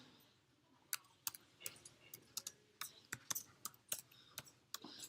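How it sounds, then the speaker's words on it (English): Someone types a file name on a computer keyboard, a quiet series of sharp, irregular key clicks close by, over faint room hum. "Type in a file name, hit save, and you're done"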